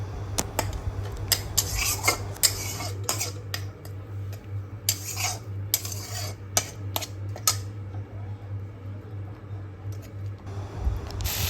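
A spoon stirs onion, ginger, garlic and tomato masala in a pan, making repeated sharp scrapes and clinks against the metal over a low steady hum, close by.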